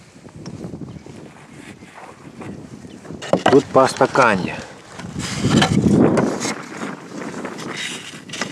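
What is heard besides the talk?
wind blowing at an apiary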